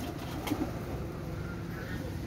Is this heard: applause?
no